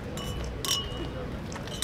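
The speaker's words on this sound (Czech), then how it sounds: "poprosíme vás o společný přípitek a společné přiťuknutí" Glasses clink in a toast at a ceremony opening trolleybus service in Prague Letňany, with a few bright, separate clinks over a steady murmur of a crowd nearby.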